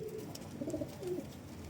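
Soft, low pigeon coos repeat in a short burbling phrase, fairly close, over a faint background hum.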